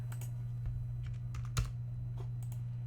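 Rapid, uneven keystrokes on a computer keyboard while HTML is being written, with clicky taps scattered across a few seconds and one sharper key press, all over a steady low electrical hum and no talk.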